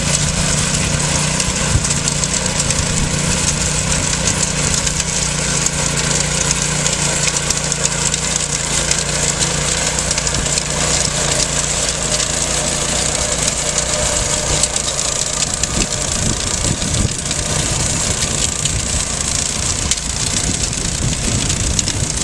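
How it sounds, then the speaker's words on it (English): A small engine-powered garden tiller runs continuously at a steady, loud, buzzing drone with rattling mechanical noise and no talking throughout. "a tiller is a great way to cultivate larger areas"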